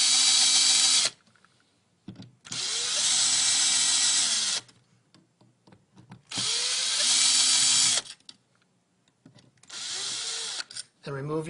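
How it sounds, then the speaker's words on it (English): A power drill or driver backs out screws from an electrical wall receptacle in four loud whirring bursts of one to two seconds each, with short quiet gaps between them. "Now what you do is simply remove the screws."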